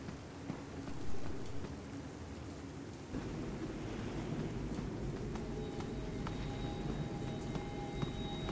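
Steady rain pours outside in the Five Nights at Freddy's: Into The Pit video game, a dense continuous hiss with low thunder rumbling beneath, growing heavier partway through and staying alone without voices.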